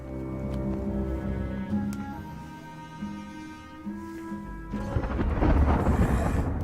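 Thunder in Banner Saga 2 rumbles low under a droning, tonal musical score, then breaks into a louder, noisy crackling roll near the end.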